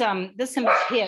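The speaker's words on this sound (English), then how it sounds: "sorry about the dog" A dog barks and yips close by indoors, a short loud burst of a couple of sharp barks running straight into a person talking.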